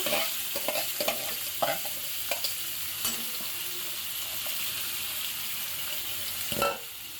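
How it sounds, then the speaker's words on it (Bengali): Bitter gourd and potato bhaji fries in a pan with a steady soft sizzle, broken by close spatula scrapes and clacks as the pieces are stirred, with one louder knock near the end. "এখন উস্তা ভাজিটা করে নিব।"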